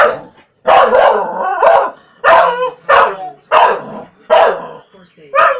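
A Gordon Setter barking and howling excitedly at the television, a string of loud, close barks in separate bursts with short pauses between them.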